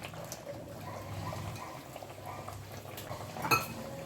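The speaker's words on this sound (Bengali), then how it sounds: "দেখুন মাছগুলো ফুটতে শুরু করেছে।" Katla fish simmering in a pot for doi katla make a soft, faint bubbling, with a brief metallic clink of utensils near the end and no talk.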